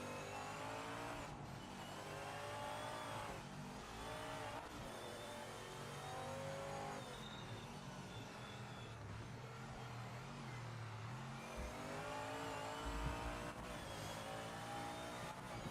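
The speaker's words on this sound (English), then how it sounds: "Bro, LMP1s are so fun, Ryze" LMP1 prototype race car engine in Project Motor Racing, a loud continuous high-revving drone with repeated shifts and dips in pitch, heard alone throughout.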